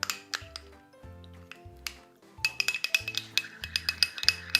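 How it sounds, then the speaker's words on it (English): A spoon stirs quinoa chicken wrap filling with peanut butter and lime in a bowl, giving a run of close, bright clinks and scrapes that start sparse and turn into a quick, steady rhythm. "So now I am mixing all of them together."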